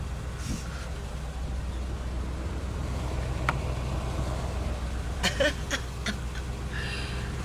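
A car's engine idles steadily after being started from cold following two and a half months of sitting unused, a low continuous hum with a few faint clicks and knocks over the top, no talking.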